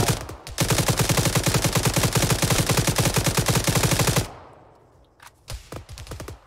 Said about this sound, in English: Oh, they're firing at me.